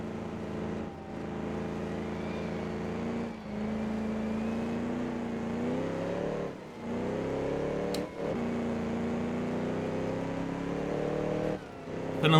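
1934 Alfa Romeo P3 vintage racing car in Assetto Corsa, its engine droning loud and steady with rising pitch through each gear, broken by brief dips at several gearshifts, no talking.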